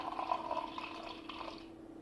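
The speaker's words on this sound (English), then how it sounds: "So I am rinsing the glass in between, trying to give it a bit of a rinse with cold water" Cold water runs into and swishes around a drinking glass during a home beer tasting, a steady close splashing wash with liquid gurgles that fades out near the end.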